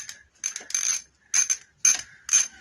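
A 10mm socket on a ratchet works the cylinder head bolts of a 1999 SYM Jet 50cc scooter, giving short bursts of clicking ratchet mechanism in four separate spurts, close and fairly loud with quiet gaps between them.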